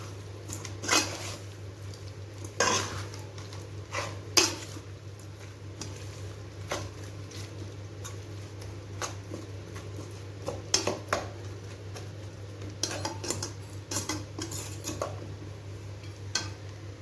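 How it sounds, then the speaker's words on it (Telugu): Marinated Hyderabadi dum biryani ingredients are stirred and mixed in a bowl, with soft scraping, clinks of a utensil against the dish, and occasional wet squishes over a steady low hum. "మళ్ళీ ఒకసారి మిక్స్ చేసి పెట్టుకోవాలి."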